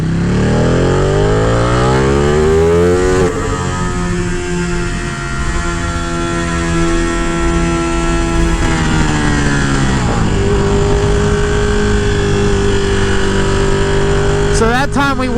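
Ducati 959 Panigale motorcycle revving hard through first gear, with the engine note climbing in pitch several times, dropping back and rising again. Loud, close and continuous.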